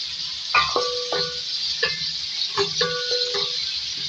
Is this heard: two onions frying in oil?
yes